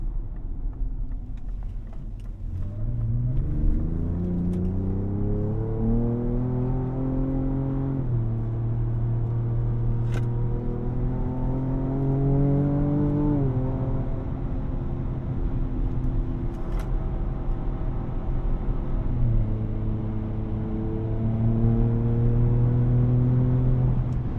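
A 2024 Ford Ranger Raptor pickup engine runs steadily close by, its pitch climbing through gear shifts and settling into a sustained drone for the whole stretch.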